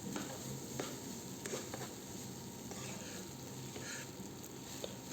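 Noodles with soy sauce tossed and stirred in a pan, a quiet steady sizzle with occasional soft utensil taps and scrapes throughout.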